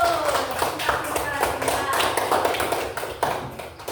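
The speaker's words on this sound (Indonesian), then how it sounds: "sama tepuk tangan dulu" A school class claps hands together in a classroom lesson, a quick run of sharp, uneven claps from several people throughout, with a voice speaking over them.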